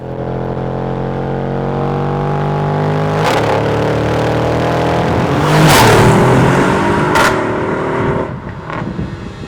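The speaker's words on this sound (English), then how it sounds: "This is the Mercedes-Benz GLE AMG 63S." A Mercedes-Benz GLE AMG 63 S engine runs loud and close, with a steady rumbling drone and several sharp revving bursts, including one strongest rise near the middle before it eases off.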